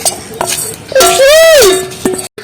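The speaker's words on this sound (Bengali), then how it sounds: "তাতে একটু বিরিয়ানি মশলা মাখিয়ে দেবো, ভালো করে ফেটে নিচ্ছি" A spoon beating biryani masala into meat juice in a bowl, a quick run of clinking strokes followed by a loud ringing scrape of metal against the bowl, close up.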